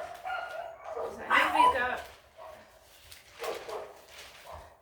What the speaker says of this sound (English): So you're going to get dogs barking.